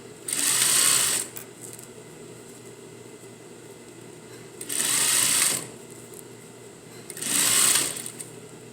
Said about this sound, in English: you just sew over the original stitch by about a 1/2 inch